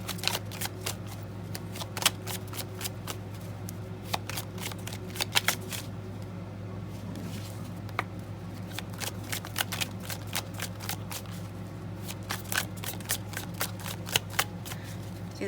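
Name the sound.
shuffling tarot cards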